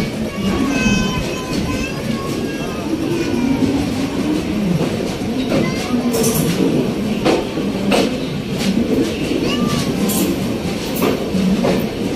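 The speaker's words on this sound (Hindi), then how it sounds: "ट्रेन अपनी निकल चुकी है नई दिल्ली रेलवे स्टेशन से" Train rolling out of New Delhi railway station, a loud continuous rumble with clattering wheels, intermittent squeals and metallic clicks, as heard from on board.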